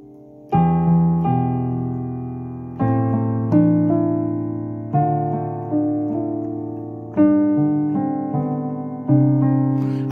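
Left-hand piano chords are struck with the sustain pedal held down, so each chord rings on and blends into the next, entering about every second to two seconds in a steady, resonant pattern with no voice.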